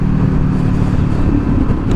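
A 2024 Kawasaki Ninja 500 fitted with a cheap slip-on aftermarket exhaust, heard while cruising, gives a loud, steady, deep exhaust drone with slight surges in the throttle, close and continuous with no speech.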